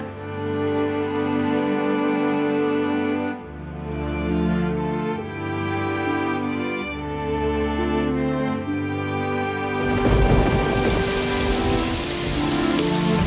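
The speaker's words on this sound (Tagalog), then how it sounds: "Umuulan na, Ivan." Steady rain falling on a surface under a sustained musical score, the downpour swelling noisily toward the end; no thunder stands out.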